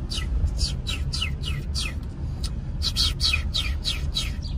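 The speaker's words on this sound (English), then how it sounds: "Little bird, tweet a tweet, tweet, tweet, bird." A small bird on a Philadelphia street chirps in quick, regular bursts of bright, rising tweets. About a dozen repeat with a short pause partway through, over steady traffic hum.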